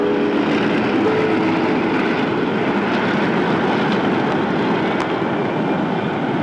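A NASA T-38 jet aircraft roaring steadily, a loud broadband engine rush with no break and no talking, holding its level throughout.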